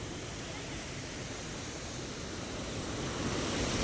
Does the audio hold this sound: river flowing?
yes